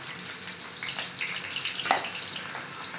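Onion pieces fry in hot oil with a steady close hiss and crackle. A brief louder sizzle flares near the middle, and no one speaks.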